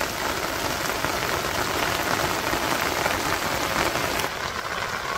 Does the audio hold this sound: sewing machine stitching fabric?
no